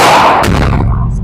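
A single loud, close gunshot from an RIA .45 ACP pistol fired at a target cracks sharply and then decays quickly into a short echo.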